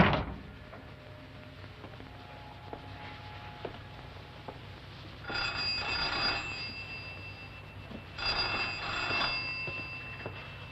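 A telephone rings twice in two long bursts separated by a pause, fairly faint over a low background hum.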